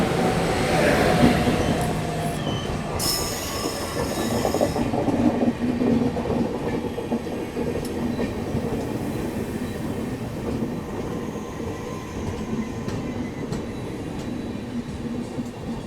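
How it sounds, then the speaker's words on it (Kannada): The Jan Shatabdi Express 12079 from KSR Bengaluru to Hubli rumbles past at close range, a steady loud roar of wheels and wagons that holds for the whole stretch. "KSR ಬೆಂಗಳೂರಿಂದ ಹುಬ್ಳಿಗೆ ಹೋಗೋ ಜನಶತಾಬ್ದಿ ಎಕ್ಸ್ಪ್ರೆಸ್ 12079"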